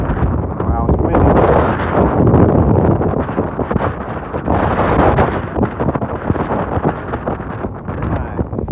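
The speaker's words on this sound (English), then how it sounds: "Wow, it's windy." Strong wind buffets the microphone at Thunder Ridge Overlook, a loud continuous roar with gusting surges throughout, and a voice can be heard speaking beneath it.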